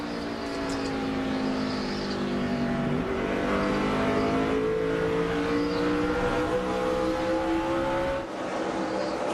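Stock cars from the 2005 NASCAR Busch Series race at Richmond International Raceway roar past in a dense pack, engine notes sweeping up and down as they accelerate and pass, loud and continuous with no voices.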